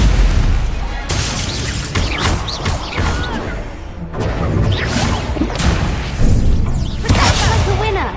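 Spellcasting in the Hogwarts Legacy video game on PS5 brings loud whooshing blasts and booming magical impacts over a dense, continuous battle soundscape, with an in-game voice shouting.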